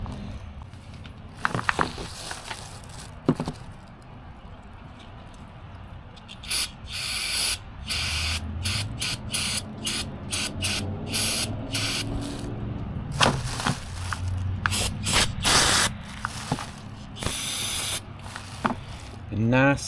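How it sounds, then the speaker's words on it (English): Brake cleaner sprays onto a cracked APU part in several sharp hissing bursts of varying length, close and loud, mixed with handling noises and brief scraping. "I got some brake cleaner and a wire brush we're going to clean this thing up with."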